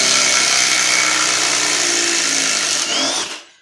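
A Milwaukee 18v Fuel Surge impact driver driving a screw, a loud steady high-pitched motor whir close by that winds down and stops at the end, alone.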